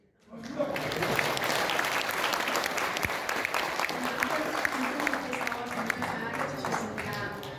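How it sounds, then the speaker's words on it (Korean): Sustained audience applause at a seminar launch event, steady dense clapping from a crowd that starts abruptly and continues evenly throughout without fading. "자리에 앉으실 때까지 계속해서 박수 부탁드립니다"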